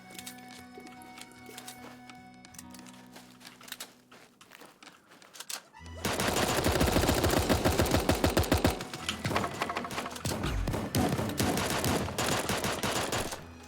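Gunfire in an online shooter video game, rapid automatic bursts that swell loud and dense partway through over game sounds, close and continuous.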